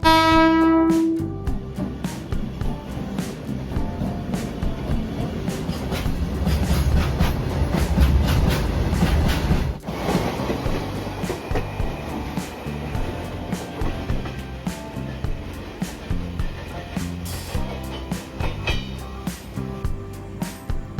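Tamil Nadu Express passenger train running at night, passing through Nellore without stopping: a steady loud rumble of wheels on rail with repeated clickety-clack joints and a sharp dip midway, continuous throughout with no talking.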